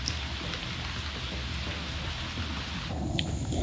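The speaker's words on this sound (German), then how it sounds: "Es regnet." Heavy rain pours down in the Panama jungle as a dense, steady hiss, with a low rumble of thunder building near the end.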